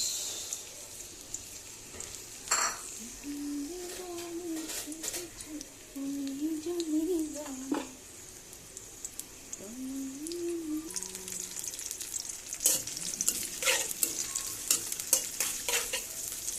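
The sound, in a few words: onions frying in oil for dried fish curry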